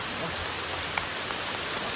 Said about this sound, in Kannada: ಸಿಕ್ಕಾಪಟ್ಟೆ ಮಳೆ ಐತೆ, ಹೆವಿ ಪ್ರೆಷರ್